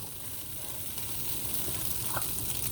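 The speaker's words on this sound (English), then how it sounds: "we're going to saute these until the mushrooms are nice and soft" Mushrooms and green beans seasoned with salt and pepper sauté in a pan with a soft, continuous sizzle, close and fairly quiet, with a faint clink near the end and no talking.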